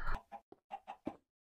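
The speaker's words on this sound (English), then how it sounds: "Let's check on our chicken." A short series of soft Minecraft chicken clucks, about five quick notes in an irregular rhythm, quiet and close.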